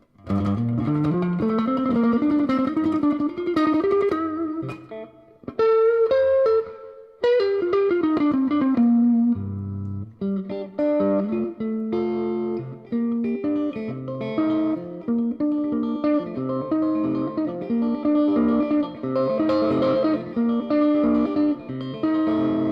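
An electric guitar plays through a Bugera Infinium 5-watt tube amp with an 8-inch speaker and reverb, shifting between bending melodic lines and chords that ring out and blur together.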